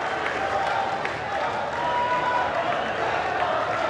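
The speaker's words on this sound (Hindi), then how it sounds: "एक बार ताली बजाकर स्वागत करें," A large crowd at a tribal rally applauds steadily, a dense wash of clapping from many hands that continues unbroken throughout, with a faint voice from a loudspeaker beneath it.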